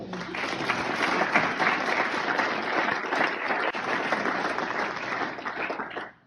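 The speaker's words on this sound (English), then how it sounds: "So I want you to give them a round of applause." Sustained crowd applause for a union executive board at a union meeting, dense steady clapping from a large audience that holds at a loud level, then cuts off abruptly at the end.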